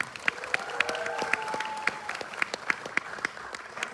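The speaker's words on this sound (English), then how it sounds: "A round of applause" Audience applause at a college freshers' event in which Mister and Miss Fresher are crowned: sharp, steady clapping from a crowd over about four seconds, with a faint sustained tone running underneath.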